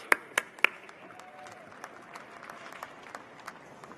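Applause at a graduate school commencement ceremony: a few sharp, close claps at the start, followed by sparse, faint scattered clapping in a quiet room.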